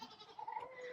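Goats bleating outdoors on a farm under rebuild, a few close, wavering cries running through one another across a short moment with no talk.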